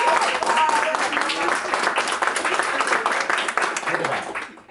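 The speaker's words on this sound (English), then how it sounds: "We need to give Robin a round of applause" Audience applause for Robin at a motivational business talk, a steady wash of clapping that holds evenly for several seconds before tapering off at the end, with talk faintly mixed in.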